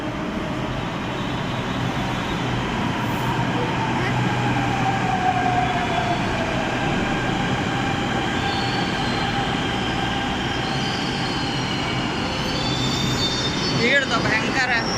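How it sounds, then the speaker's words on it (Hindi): A metro train rumbles in loudly and steadily, wheels squealing and whining as it slows, with faint voices under the noise. "हमारी मेट्रो आ रही है"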